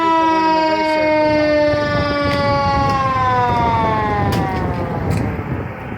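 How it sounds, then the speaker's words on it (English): An emergency siren wails loudly and steadily at a crash scene on a city street in Rock Island, Illinois, its rising and falling tones sweeping with faint traffic beneath. "They got the ambulance coming right now behind it somewhere."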